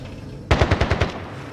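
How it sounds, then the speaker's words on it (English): A short burst of about six rapid automatic gunshots in a combat video game, loud and close, starting abruptly after a quiet moment and fading quickly into a low ambient hum. "Bastard trying to shoot me."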